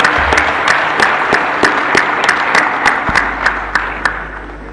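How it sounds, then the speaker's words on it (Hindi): A live audience breaks into loud, sustained applause at a spiritual discourse, with dense clapping running steadily throughout and no talk over it. "तो एक बार जरा जोरदार ताली बजाओ पहले"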